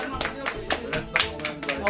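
A few people clap in a short, uneven burst of applause nearby, about eight claps spread over two seconds, with voices faintly underneath.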